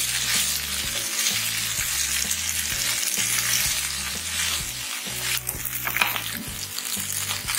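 Pasta and vegetables are tossed and stirred in a hot pan, a steady close sizzle with scraping stir sounds, over quiet background music and no talking.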